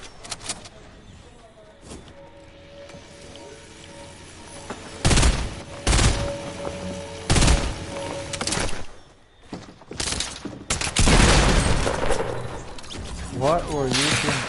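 Gunfire in the video game Fortnite during a Team Rumble match, several sharp bursts of shots in loud clusters among quieter game sounds, under occasional talking.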